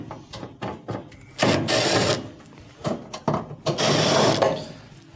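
Phillips screws being backed out of the terminal cover on the bottom of a range oven, giving several short mechanical clicks and ratcheting screwdriver bursts up close, with two longer scraping passes.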